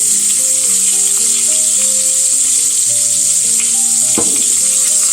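Pork chops fry in butter and oil in a skillet, giving a steady, loud, close sizzle with faint background tones and a brief clatter near the end, no talking.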